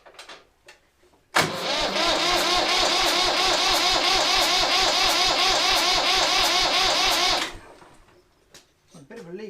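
A vintage Massey Ferguson 35X tractor diesel engine cranks and catches, then runs loud and steady with a rough, pulsing chug for about six seconds before cutting out, with faint clatter around it.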